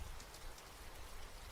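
Heavy rain pours in a dense, steady hiss that fills the whole stretch, loud and unbroken, with no voices.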